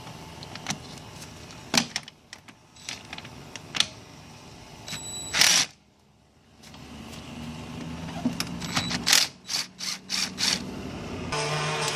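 Ratchet loosening 10mm bolts on the transmission body of a 1999–2003 Acura TL, giving short bursts of rapid clicking and metallic scraping with brief pauses, close and fairly clear over a quiet garage background.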